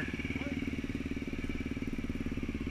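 Trail motorcycle engine running close by on a dirt track, a rough rhythmic mid-pitched putter that holds steady rather than sweeping past, with a brief voice heard over it.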